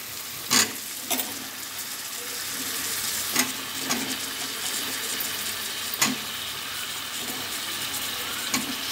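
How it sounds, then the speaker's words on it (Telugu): Chopped brinjal (eggplant) pieces frying in a pan, a steady soft sizzle with a few sharp clinks and pops of stirring scattered throughout, no voices. "ఇప్పుడు మనం ఇందులో కట్ చేసి పెట్టుకున్న వంకాయ ముక్క"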